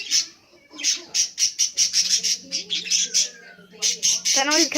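Aviary birds squawk and chirp in a rapid series of loud, close calls, with a faint voice speaking in places.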